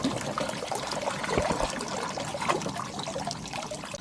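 Water trickles and splashes from a DIY bucket pond filter waterfall on a 4,200-liter pond, a close, steady, bubbling pour with no talk.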